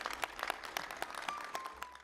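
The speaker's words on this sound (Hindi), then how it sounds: "एक बार UK के योगियों के लिए जोरदार ताली बजा दो भाई।" An audience at a yoga and Ayurveda gathering clapping for visiting UK yogis, a loose, fairly faint patter of individual claps with distinct sharp hits scattered across the moment.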